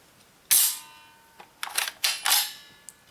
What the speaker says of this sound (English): Let's lock the bolt to the rear.